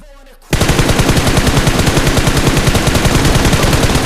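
Rapid automatic gunfire in the battle royale video game BGMI bursts in after a brief quiet moment and keeps up a loud, dense stream of shots to the end.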